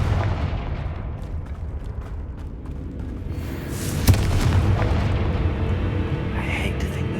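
Confringo fire spell cast in Hogwarts Legacy during a fight with a giant spider: a sudden booming blast that rolls into a rumbling burn, set over ongoing game noise and clatter.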